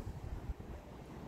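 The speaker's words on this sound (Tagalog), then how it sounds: "Malakas ang hangin." Strong gusting wind after rain on a windy rainy-season morning, a dense, steady roar with buffeting low rumbles across the short stretch.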